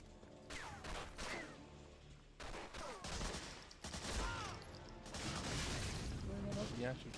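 Gunfire in the PS2 World War II shooter Medal of Honor: Frontline, repeated bursts of shots and crashes in quick succession, fairly loud and continuous with brief pauses.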